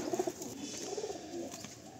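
Pigeons in a loft give soft, low coos, a short cluster near the start followed by a couple more faint calls, with quiet rustling background.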